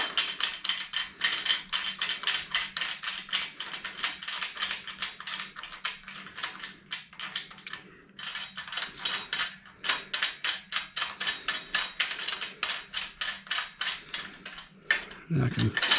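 Ratchet tightening bolts on a CNC router table build, rapid repeated clicking strokes in bursts, close and fairly quiet, with brief pauses between runs.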